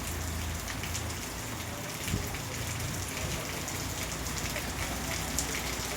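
Steady rain pours continuously onto surfaces, a dense even hiss with scattered drop patter throughout, and no voices.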